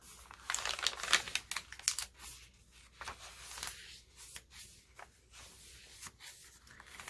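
Paper pages of a junk journal, including map paper and dyed paper, are flipped and handled up close in a quiet room, giving a run of crisp crinkles and rustles that are busiest early on, then scattered and softer.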